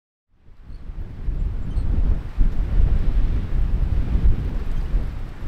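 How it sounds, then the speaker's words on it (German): A strong desert windstorm at night roars in after a brief silence and builds into loud, gusting low rumbles buffeting the microphone and continuing without pause. "auch die ganze Nacht hat es richtig stark gewindet"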